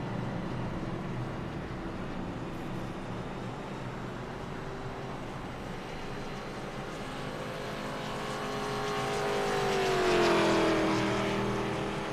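IROC race cars on the Kansas track roar past in a continuous engine drone that swells to a loud pass with a falling Doppler pitch before fading slightly.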